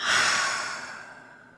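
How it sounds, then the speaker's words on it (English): A full, audible exhaling breath during a prenatal yoga morning class, with one long breathy outflow that starts strong and tapers off smoothly over under two seconds, close and clear, with no talking. "we're going to inhale into that space and a full breath out"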